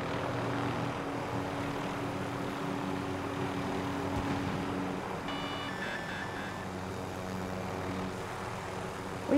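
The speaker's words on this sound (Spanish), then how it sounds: "Acuérdate que viene el helicóptero." A continuous droning helicopter engine hum in Call of Duty: Modern Warfare, with a low rotor-like throb, steady and moderately loud, joined briefly by a faint electronic chime midway.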